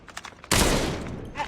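A sudden burst of rapid gunfire from Call of Duty Mobile in a Frontline kill house match erupts after a quiet moment and sustains loudly to the end.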